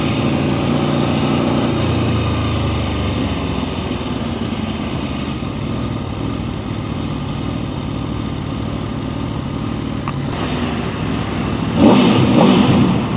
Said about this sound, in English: And a little bit of revving. I hear some V4 in there.